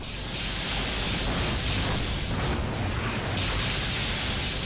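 Blue and red phaser beams exchanged in a Star Trek Starship Battles space combat game, heard as a loud, sustained roaring energy blast with a hissing high edge, shifting briefly midway and continuing without a break.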